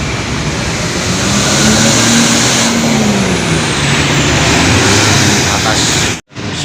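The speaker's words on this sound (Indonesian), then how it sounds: "Ada bus Eka Surabaya Solo Semarang." An Eka intercity bus on an arterial highway, a loud, steady rush of engine and road noise close by with a slowly shifting drone, which cuts out briefly near the end before resuming.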